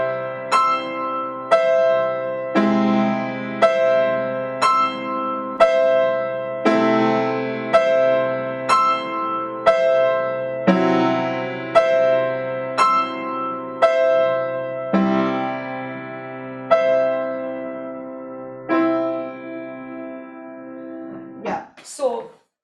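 A solo piano plays a wrist exercise known as flying, a steady series of about fifteen big struck chords, each ringing and decaying before the next, ending in a quick high flourish.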